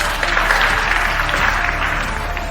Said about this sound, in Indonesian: Mari kita tepuk tangan menyambut mempelai pria hari ini